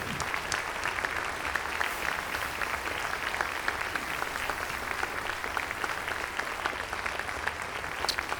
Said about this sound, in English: How about another nice round of applause for this wonderful band?